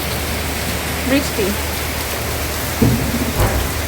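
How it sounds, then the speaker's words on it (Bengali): Loud, steady rain pours down during a storm in Dhaka with a low rumble of thunder underneath, while a voice speaks briefly over it. "2 দিন বৃষ্টি হয়নি, 3 দিনের দিন বৃষ্টি।"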